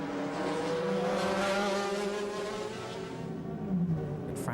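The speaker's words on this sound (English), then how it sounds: "Frank Bieler has as he comes up behind the 360 Modena in the GT class and looks for a way past the car and gets it very easily indeed." GT-class racing cars, including a Ferrari 360 Modena and an Audi, roar steadily past on the Trois-Rivières street circuit, a continuous loud engine drone with shifting pitch and no talk.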